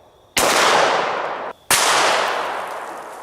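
Two sharp, loud reports from a 9mm pistol firing 147-grain full metal jacket rounds at a heavy atlas stone outdoors, spaced about a second apart, each ringing out with a long decaying echo; no talking.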